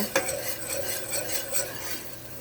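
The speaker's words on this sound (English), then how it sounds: "So we are going to let this cook, constantly stirring." A utensil stirs stewed chicken in a cooking pot, giving repeated scraping strokes in a steady rhythm with a sharp clink at the start, close and moderately loud over a faint background sizzle.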